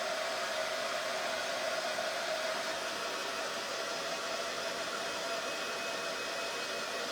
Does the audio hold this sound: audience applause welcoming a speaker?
no